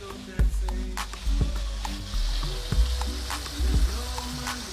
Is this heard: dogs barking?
no